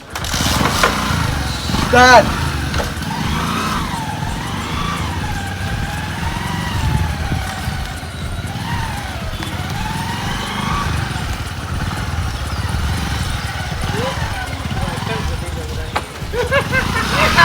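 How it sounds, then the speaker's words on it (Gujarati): A motorcycle is started and ridden with its engine drone running steadily throughout, under nearly continuous shouting and talk from people nearby. "બાઈક ચાલુ કરો"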